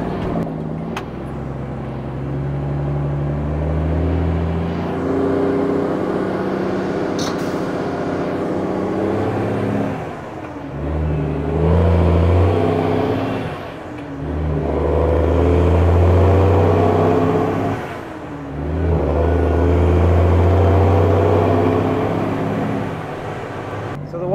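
A truck hauling a load of salvaged limestone accelerates, its engine droning loud and close, then repeatedly surging and easing back in long swells of revving.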